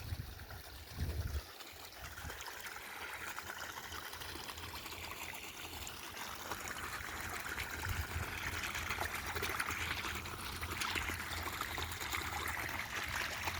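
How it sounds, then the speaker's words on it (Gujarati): Water pours steadily from a farm pipe broken by a buffalo's hoof, a continuous hissing trickle close by that swells slightly louder toward the end, with no talking. "અહીંથી પાણી નીકળે છે."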